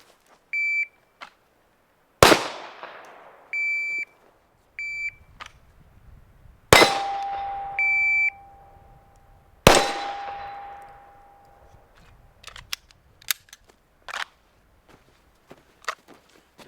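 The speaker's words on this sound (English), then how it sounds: "shoot some bullets" Pistol gunshots at an outdoor shooting range, fired from a Glock-style handgun and a P320: three sharp, loud reports spaced a few seconds apart, each with a ringing tail, plus scattered timer beeps and a few fainter distant shots.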